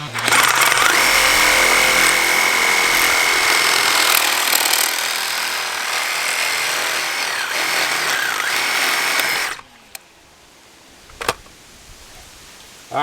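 A power tool cuts through a coupler in a loud, harsh continuous grind for about nine seconds, then cuts off to quiet room tone broken by a couple of sharp knocks.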